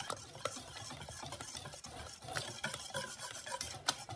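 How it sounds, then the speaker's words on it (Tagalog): A spoon stirs macaroon batter with self-raising flour in a bowl, a close, steady scraping and rubbing that runs throughout with a few sharper knocks. "hahaluin natin mabuti"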